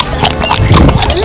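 Horse hooves clip-clopping at a petting zoo, a brief close burst of clattering steps under loud ambient noise and voices.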